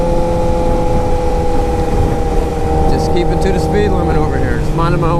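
A 2008 Honda CBR 1000RR engine drones steadily at constant speed while riding, loud and close under heavy wind rush, with a voice speaking over it toward the end.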